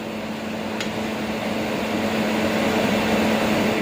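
Gulab jamun fry in plenty of oil or ghee with a steady, loud, close hissing sizzle that never lets up.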